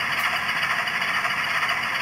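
Atlas CSX NRE Genset model locomotive with an MRC sound decoder plays a steady, even diesel engine drone through its small speaker, faint and unchanging throughout.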